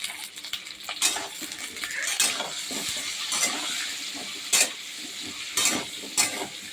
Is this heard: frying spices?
yes